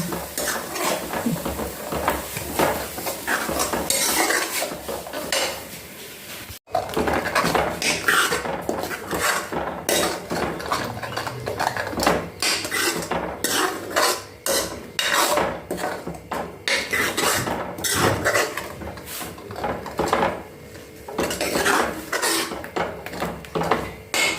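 A tadka is roasted in a cooking pot while a utensil scrapes and clatters against the metal in repeated rhythmic strokes, with a low sizzle of frying running beneath the busy stirring.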